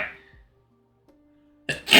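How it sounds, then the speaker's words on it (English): A single sharp sneeze bursts out near the end after a quiet pause, loud and close. "Am I going to sneeze again?"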